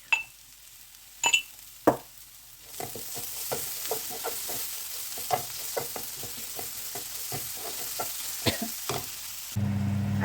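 Ginger and green chili paste frying with onions and turmeric in a pan for a potato curry, a steady soft sizzle broken by a regular run of spatula scrapes and taps, a few sharp clinks at the start, no talking.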